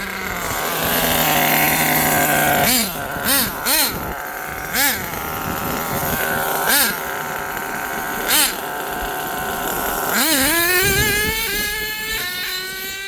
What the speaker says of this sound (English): When I floor it from the ground, it spins all four tires.